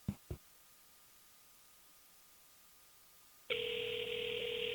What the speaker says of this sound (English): So let it ring for a few seconds